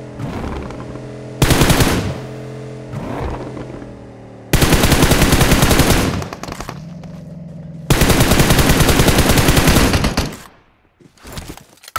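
Loud automatic gunfire from the video game PUBG comes in long, dense bursts separated by short gaps, with quieter shots near the end and no talk over it.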